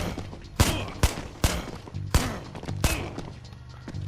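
Five sharp gunshots fired at enemies in the PS4 game Body Camera Shooter, spaced about half a second apart, each a loud thump over a steady rumbling game background.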